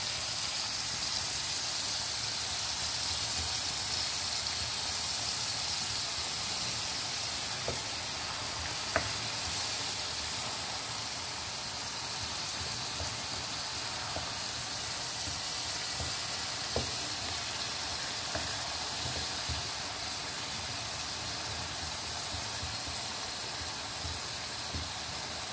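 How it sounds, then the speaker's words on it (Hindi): Onions sauté on low heat for fish karahi, giving a steady, even sizzle and hiss that runs throughout, with a few faint clicks of stirring now and then. "मैं इसकी हल्की आंच पे प्याज को सोते करूंगी।"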